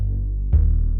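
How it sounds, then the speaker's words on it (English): Distorted 808-style bass in the first half of a verse: a deep, sustained low tone, then a punchy new note hits midway and rings on, heavy and beefy. "These are the basses in the first half of the verse."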